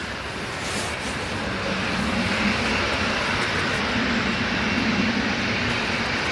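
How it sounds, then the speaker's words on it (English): A Ryanair airliner taxis at Manchester Airport, its jet engines a steady, broad roar at a distance that swells slightly and holds without any talking. "we've got another Ryanair out on the taxi at the moment"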